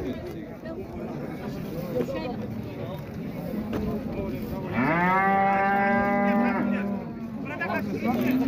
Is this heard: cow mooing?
yes